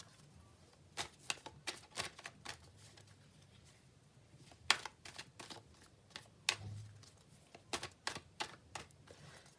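Tarot and oracle cards being shuffled by hand, a run of crisp riffling flicks and snaps in quick irregular bursts, close and fairly quiet with no talking.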